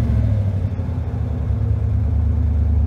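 A car engine is brought up in RPM to raise oil pressure, a steady low rumbling drone held close and loud for the whole stretch with no talk.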